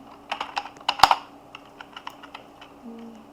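Quick clattering keystrokes on a computer keyboard during a Roblox Brookhaven session, close and crisp, a short uneven run of taps with one sharper hit, and no talking.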